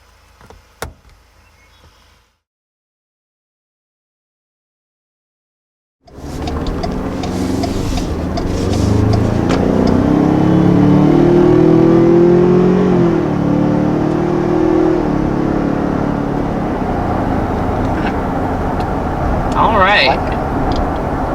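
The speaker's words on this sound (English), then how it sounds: "So this is our first time in the Ford Ranger, taking it out for a drive, that is." A 2020 Ford Ranger pickup truck's engine and road noise while driving: a steady, loud, broad rumble that starts abruptly after a few seconds of near silence and runs continuously, with a voice faintly mixed in.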